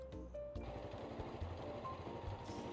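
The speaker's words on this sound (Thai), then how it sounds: "ลูกค้าแล้วมาฟังเสียงท่อรถกันหน่อยนะ" A 2020 Honda Forza 350 ABS scooter with about 11,000 km idles with a soft, even exhaust putter, steady and fairly quiet up close.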